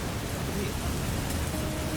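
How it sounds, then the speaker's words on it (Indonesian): Rain drumming on a camping tent during the rainy season at a lakeside campsite, a dense, steady hiss of drops that stays loud and unbroken throughout. "menikmati suasana hujan yang begitu dingin"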